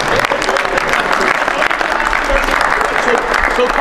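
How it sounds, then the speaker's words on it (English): Steady applause from a crowd at a GAA coaching conference, loud and continuous for a few seconds, with a voice or two faintly mixed in. "Give him a wee clap,"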